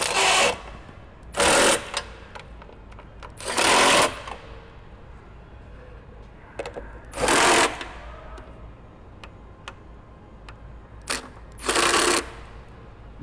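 Pump coupler being tightened down onto its mounting pad, heard as five separate loud mechanical bursts of about a second each, spaced by several seconds of quiet background.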